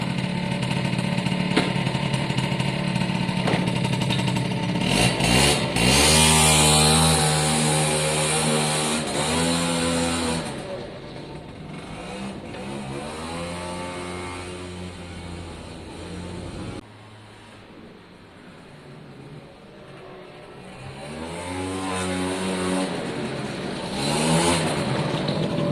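A Suzuki AP50 two-stroke motorcycle runs on a road, its small engine buzzing loudly then revving up and down through several accelerations, fading and returning as it passes.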